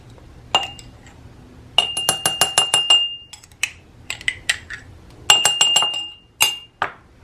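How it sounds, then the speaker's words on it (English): Glass clinks and taps as jam goes into a 1-cup glass mason jar, a series of sharp bright chinks in quick clusters with pauses between, close and fairly loud, no talking. "The first thing I'm doing is just putting the jam into a larger mason jar"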